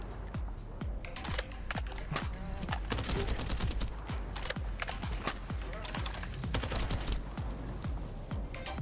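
Rapid gunfire from the Nell gun in the video game The First Descendant, a steady stream of sharp, loud shots in quick rhythm throughout, with faint clicking underneath.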